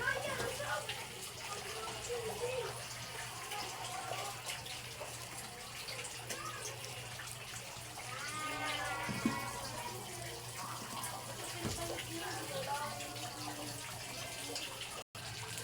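Water is added to a pot of simmering chicken feet in a home kitchen, a soft continuous pouring and bubbling rush heard faintly under a low background hum and occasional voices.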